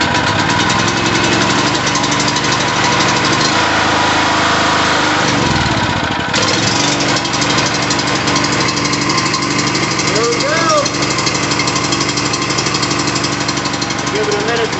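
A Predator portable generator engine runs steadily and loud throughout, a continuous buzzing drone with a brief dip in tone midway, warming up with the choke pulled while people talk over it.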